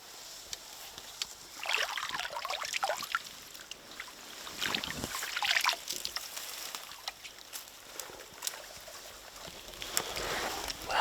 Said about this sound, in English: Alright, it's just water. It just sounds like a creek.